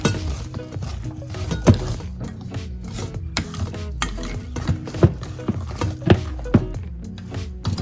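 A spoon stirs thick ragi brownie batter in a bowl in a steady, rhythmic scraping and knocking pattern, close and clear, with occasional sharper taps against the bowl and no talking.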